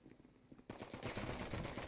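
Gunfire erupts in a video game roleplay shootout, with faint shots at first and then a dense, rapid burst of automatic fire for the rest of the moment.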